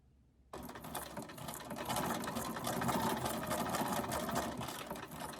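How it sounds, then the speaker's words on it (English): A sewing machine free-motion stitching on paper with a long stitch length, starting abruptly and then running fast and steady as a close, even mechanical whir with rapid needle clatter. "I am making that stitch length longer because we are sewing on paper"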